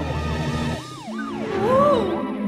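A cartoon ambulance siren wails in a rising and falling two-tone pattern, bright and close, briefly dipping before swelling again.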